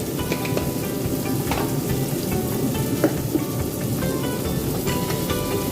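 Spices frying in a pan, a dense continuous sizzle like light rain with scattered small pops and stirring scrapes, close and steady throughout.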